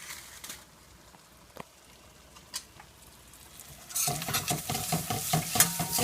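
Spices being stirred in hot oil for pav bhaji, with quiet scraping and occasional clinks at first, then a louder, denser sizzle and stirring patter building for the last couple of seconds.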